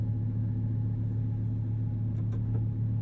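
A pair of V10 engines, an 840-hp VF supercharged Lamborghini Huracan STO and an Audi R8 V10, idle nearby as a steady, deep, unbroken rumble with no voices.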